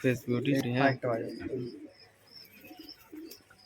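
A person talks close by at first, then pet pigeons released into a cage coo softly in the background with a few faint chirps.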